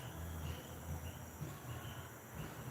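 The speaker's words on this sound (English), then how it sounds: "The sound of crickets is unavoidable." Crickets chirp steadily outdoors at night, a faint, continuous insect trill with no talking over it.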